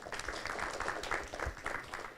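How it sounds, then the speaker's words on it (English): An audience at a guest lecture on geospatial perspectives to public health and pandemic preparedness applauds the speakers, a dense, fairly faint patter of many hands clapping continuously. "Please give a round of applause to our speakers."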